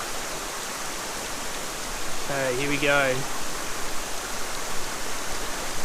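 A stream flows over mossy rocks with a constant, fairly loud broadband rush, and a voice speaks briefly midway over the water.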